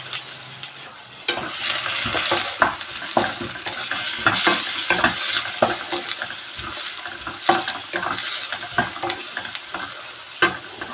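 Chopped onions fry in hot oil with cloves and cinnamon, giving a continuous crackling sizzle broken by frequent scraping stirs of a spoon in the pan.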